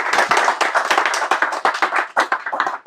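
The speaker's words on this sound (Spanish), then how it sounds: "un aplauso y bienvenido, Julio." A conference audience claps, a quick uneven patter of many hands that fades slightly toward the end.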